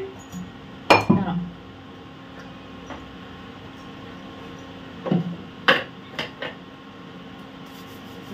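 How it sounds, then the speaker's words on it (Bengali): A pressure cooker lid clanks shut in a home kitchen while khichdi is being made: two sharp metallic clinks with a short rattle near the start, then a cluster of lighter knocks and taps later on, all close and fairly quiet. "এবারে আমি কুকারটা দিয়ে দিচ্ছি চাপা।"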